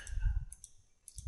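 Key presses on a TI graphing calculator, a few soft clicks spread over about a second, close and quiet.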